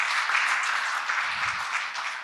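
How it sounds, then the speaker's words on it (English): An audience applauds at a keynote event, a steady broadband wash of clapping sustained throughout at moderate level, with no voices over it. "let's give these guys a round of applause for putting this together"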